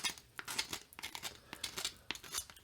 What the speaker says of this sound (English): we're going to use the same scissors technique to chamfer those edges